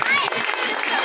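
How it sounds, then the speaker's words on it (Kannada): A short, dense burst of audience clapping greets the Maruteshwara youth committee at a temple event. The applause is loud and close, with crowd noise mixed in. "ಮಾರುತೇಶ್ವರ ಯುವಕ ಸಮಿತಿಯವರಿಗೆ ಒಂದು ಜೋರಾದ ಚಪ್ಪಾಳೆಯನ್ನು ನಾವು ಕೊಡೋದ್ರ ಮೂಲಕ"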